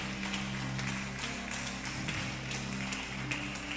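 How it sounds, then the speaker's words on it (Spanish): Congregation clapping during a Pentecost vigil service in a church: a quiet, even wash of many hands clapping together, continuous and somewhat distant, with a faint steady hum underneath. "Dar un aplauso al Señor, porque Dios es bueno, amada iglesia."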